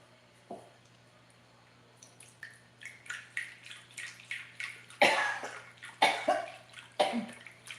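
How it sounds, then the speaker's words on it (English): A woman coughs repeatedly in a home kitchen while cooking with chicken broth, the coughs starting sparse and then coming in a loud, rapid series of harsh bursts near the microphone. "I'm coughing away."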